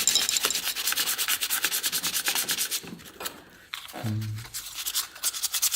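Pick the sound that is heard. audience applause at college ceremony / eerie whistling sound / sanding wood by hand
sanding wood by hand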